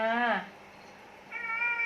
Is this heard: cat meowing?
yes